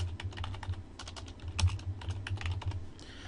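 Quick, close clatter of keys being typed on a computer keyboard in a steady run of fast taps with brief pauses, no voices.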